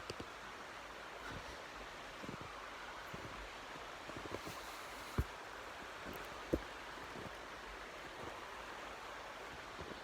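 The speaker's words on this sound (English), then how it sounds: "There's a beautiful creek next to where I am." A creek flows close by outdoors, a soft continuous rushing wash of water with faint rustling and a couple of sharp clicks, steady and fairly quiet throughout.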